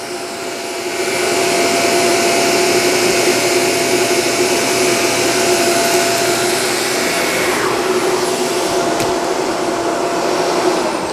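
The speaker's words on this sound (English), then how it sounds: "We're going to turn it on. Let's see how well this performs." A Shark Navigator Lift-Away upright vacuum cleaner running on low pile carpet, its loud steady motor roar and whine starting up after a quiet moment and holding constant close by, with no talking.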